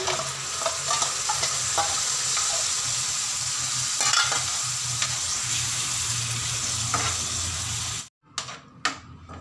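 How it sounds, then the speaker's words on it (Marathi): Curd stirred into sautéed green chillies for spicy dahi mirchi, a steady loud sizzle with scraping spoon strokes in the pan that cuts off abruptly near the end, followed by a few faint knocks. "आणि त्यानंतर हे दही टाकून घ्यायचे।"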